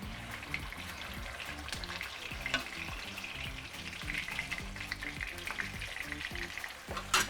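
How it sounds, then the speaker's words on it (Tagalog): Pork for lechon kawali frying in hot oil, a close, busy crackle of splattering and popping oil with sharp spits throughout, steady and loud, without voices. "Yan lang ano sa lechon kawali, tumatalsik talaga siya"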